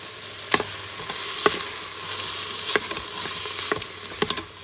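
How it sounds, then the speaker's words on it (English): Soup being stirred in a pot while cooking, a steady close sizzle and bubbling with several sharp scraping clicks of the spoon against the pot at irregular intervals. "Stir that up."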